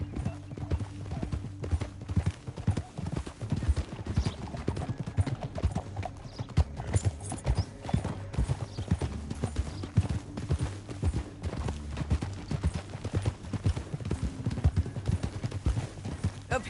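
Horse hooves clip-clop steadily in Red Dead Redemption 2, a continuous moderate-volume rhythm of hoofbeats with faint horse snorts mixed in.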